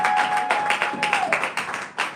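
Applause from a church congregation, a dense run of hand claps with a steady pulse filling the room, while a sustained organ or keyboard tone lingers under the opening half.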